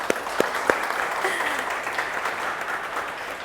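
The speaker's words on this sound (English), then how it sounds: "A big round of applause for all of them." Applause at a Volkswagen T-Roc and Tiguan Allspace launch event in a dealership, a few sharp individual claps at the start swelling into a steady crowd of clapping.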